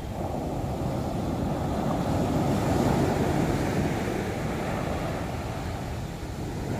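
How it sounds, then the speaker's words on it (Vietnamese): Large waves from a stormy sea roll and break on the beach at Nha Trang, a sustained close roar of churning surf swelling in the middle, mixed with gusty wind noise and no voices. "Wow, sóng lớn hay chưa."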